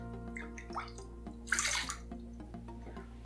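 Tap water runs briefly to wet a shaving bowl for Proraso Green soap lather, a short soft gush in the middle of a quiet room hum.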